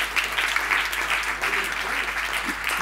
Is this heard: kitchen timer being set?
no